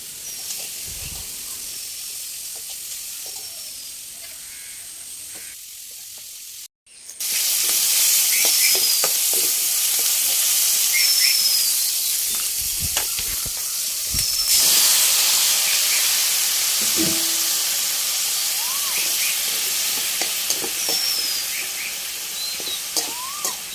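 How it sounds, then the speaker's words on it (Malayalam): Chopped brinjal sautéing in a pan in a village kitchen: a steady, loud hiss and sizzle after the pieces go in, with scattered clinks and scrapes throughout and faint bird calls in the background. "അരിഞ്ഞു വെച്ചിരിക്കുന്ന വഴുതനങ്ങ അയോടെ ഇട്ടിട്ട് നല്ലവണ്ണം ഒന്ന് വഴറ്റിയെടുക്കണേ"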